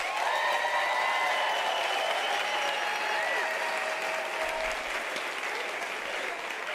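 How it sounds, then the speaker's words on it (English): Graduation audience at a UNISA autumn ceremony claps steadily and loudly for graduating colleagues, a dense sustained applause filling the hall throughout with faint murmurs beneath. "May I request their colleagues who are graduating with them to give them a round of applause."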